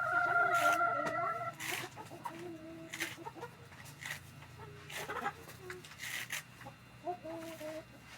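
Chickens cluck and murmur steadily at close range, with a rooster-like call early on, over a low constant background hum.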